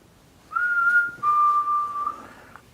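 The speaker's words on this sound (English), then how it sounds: "What about if you copy my whistle?" A person whistles a short two-part tune nearby, a clear sustained note followed by a slightly lower held note, alone in a quiet room.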